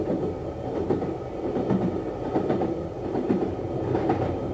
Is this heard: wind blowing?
no